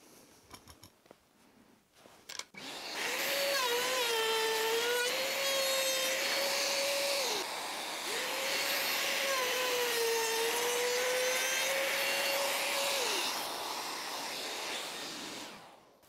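A Vevor trim router with a dust extraction vacuum hooked up runs with a steady high-pitched whine over a broad rushing noise. It holds for about five seconds, dips briefly, then runs again before winding down.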